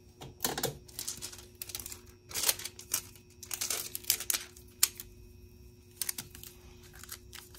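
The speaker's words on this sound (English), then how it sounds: "I'll tape it." Adhesive tape is pulled and pressed onto a mouse pad for sublimation printing, producing close, irregular bursts of crinkling, tearing and tapping, with quiet pauses between them and no talk.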